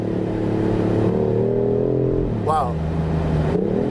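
BMW i8 Roadster accelerating on the road, a steady engine drone rising in pitch through the gears, with a brief shift dip midway; a voice briefly exclaims over it.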